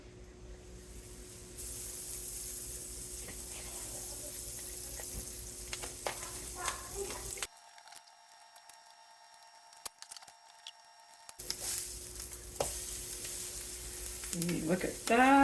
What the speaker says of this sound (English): I'm gonna do it in the pan with a little bit of butter